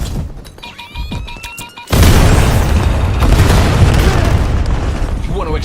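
A UAV is destroyed in a video game: a sudden, loud blast at about two seconds swells into a dense, roaring rumble that holds to the end, with quieter game sounds and voices before it.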